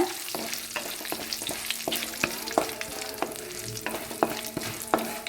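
Chili and curry leaves fry in hot oil in a pan for beef curry, a close, continuous sizzle with frequent crackling pops and the occasional scrape of stirring.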